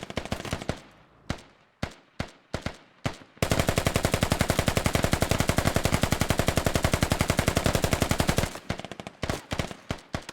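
Sustained bursts of SAW light machine gun fire in the military shooter Squad, opening with scattered single shots, then a long rapid unbroken stream for about five seconds, then trailing off into separate cracks, loud and close.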